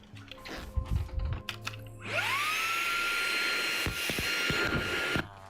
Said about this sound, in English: I have this cool vacuum.